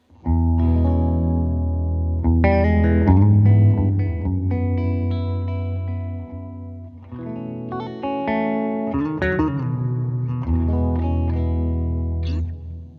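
Electric guitar chords through a reverb pedal ring out with a lush, spacious reverb, sustained notes blooming and washing together, played loud and alone.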